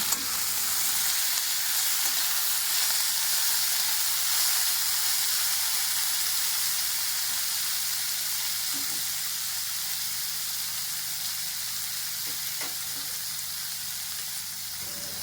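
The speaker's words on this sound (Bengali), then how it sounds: "সেদ্ধ করে রাখা ডুমুরটা এবার দিয়ে দেবো।" Boiled figs fry in a hot pan with a steady, loud sizzle that holds across the whole stretch and fades slightly toward the end, with no voices over it.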